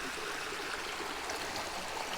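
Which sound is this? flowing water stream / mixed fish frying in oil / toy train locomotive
flowing water stream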